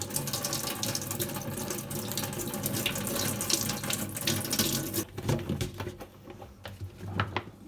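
Yellowish brine is poured off home-cured green olives, a continuous close splashing stream for about five seconds that then breaks into lighter trickles and drips.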